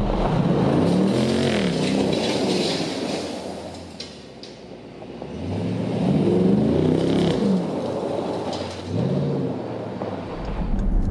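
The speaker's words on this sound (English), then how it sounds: "I did have a gravel parking lot to see if this thing could do donuts" A Dodge Durango SRT spins donuts on a gravel parking lot, its engine rising and falling in long revving sweeps under a steady wash of tire and gravel noise, loud and close throughout.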